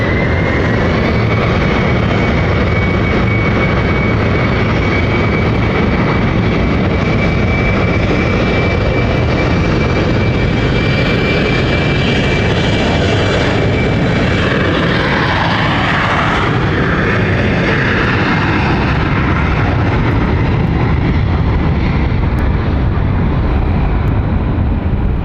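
A SkyTeam airliner taxis at London City Airport, its jet engines a loud, steady roar with a thin whine running above it for the whole stretch, close by and with no talking.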